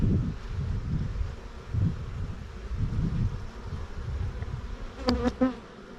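Honey bees buzz around an open hive with frames of capped honey and new comb, a close, continuous drone with wind buffeting, and a few sharp nearby bee whines near the end.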